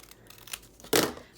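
Scissors cutting through a craft template for hair ties, a few faint snips followed by one louder, closer crunching cut near the end, with no talk.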